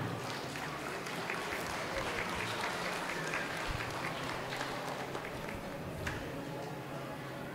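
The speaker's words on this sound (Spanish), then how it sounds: "Ese aplauso para nuestro presidente público presente." A crowd applauds the municipal president at a farewell program for bands in Santa María Tepantlali, with sustained, dense clapping heard at moderate distance under faint crowd murmur.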